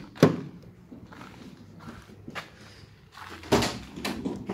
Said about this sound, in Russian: Вот, хорошо двери отбрасываются.